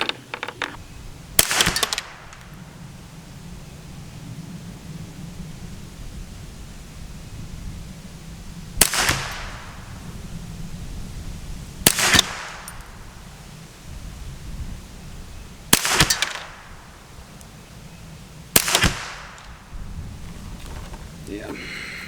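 Ruger 10/22 rifle with a Kidd barrel firing Eley Match ammunition at a bench: five sharp, loud gunshots spaced a few seconds apart, each with a short decaying crack, over low steady background hum.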